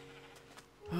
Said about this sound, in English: Sheep, more sheep